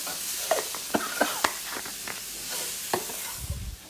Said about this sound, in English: Just stir that up for me as I'm adding it in, please.